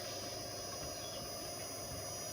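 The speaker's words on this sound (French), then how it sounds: "Et le moteur fonctionne très bien." A three-phase 220V electric motor runs on a 12V battery through a converter, giving a faint, steady hum with a constant high-pitched whine and no speech.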